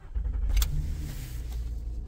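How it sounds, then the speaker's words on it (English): A Honda Pilot engine starting with the key, a brief close cranking burst that settles into a low steady idle rumble, with no talk. "Turn the key to the start position to start the vehicle."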